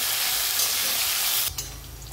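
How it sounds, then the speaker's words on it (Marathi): Chopped onion frying in hot oil with mustard seeds and cumin in a pan, a loud steady sizzle and hiss that drops off sharply near the end, as if stirred or moved off the heat. "कांद्याला आता चांगला परतून घेऊ, एकदम पूर्ण कलर बदलेपर्यंत आपण परतून घेऊ"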